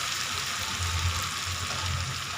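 Chilies sizzle steadily in a hot pan, a bright continuous frying hiss with low bubbling underneath, heard close and unbroken without anyone speaking.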